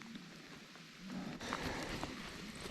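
Steady rain hisses on water and a boat during a cold, windless winter bass-fishing outing, a soft even wash that swells slightly partway through.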